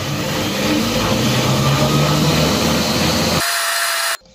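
A loud, steady whirring motor drone from a kitchen food processor running close by, then cutting off abruptly near the end.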